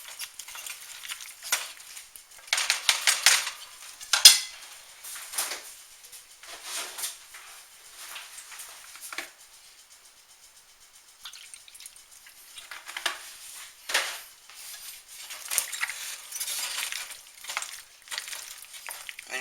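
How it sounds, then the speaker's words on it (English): A garlic alfredo shrimp bake mixture being stirred in a bowl or pan, with close, wet scraping and sloshing strokes in irregular bursts and a short quieter pause midway. "And you're just going to stir all this up."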